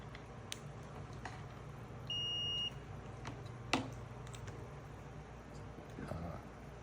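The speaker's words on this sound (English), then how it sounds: "you just have to find the beep" A single short, steady electronic beep from a piezoelectric ceramic element under test for high-impedance headphones, clear over a faint hum, followed by a sharp click.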